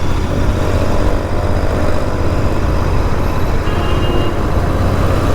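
A Royal Enfield Continental GT 650 motorcycle while riding, its engine drone blended with heavy wind rush, loud and continuous throughout with no talk.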